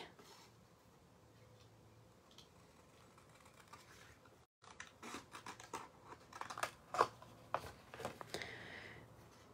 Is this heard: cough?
no